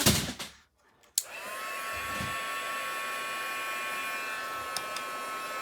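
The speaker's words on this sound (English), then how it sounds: "I'm just going to give it a quick dry with my heat tool." A craft heat tool blows steadily to dry ink on a stamping project, switching on after a brief pause and then holding a loud, continuous whooshing hum with a faint whine until the end.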